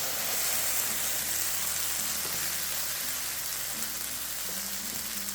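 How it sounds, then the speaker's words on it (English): Apple slices frying in a hot pan, a steady, close hiss of sizzling with fine crackle that carries on evenly and alone for several seconds. "Let us enjoy that sound of the sizzle."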